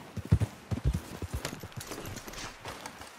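A horse trots along in Red Dead Redemption 2, its hooves clip-clopping in a steady, fairly close rhythm, with a rider's faint voice underneath.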